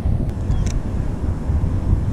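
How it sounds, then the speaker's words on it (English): Strong wind buffets the microphone outdoors during a bluegill fishing trip on the water, a loud continuous low rumbling roar with gusty fluctuations and no talking. "It is a little windy today."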